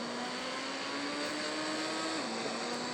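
In a video game, a car engine drones steadily with a sustained, even tone that dips slightly in pitch near the end. It is moderately loud and there is no talking.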